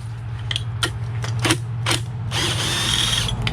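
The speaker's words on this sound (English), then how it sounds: "See if you could remove that bolt." A hand ratchet works a bolt loose on the turbo of a 2008 Mercedes Sprinter van, producing a few sharp, close pawl clicks and creaks, then a denser burst of clicking near the end, with no talking.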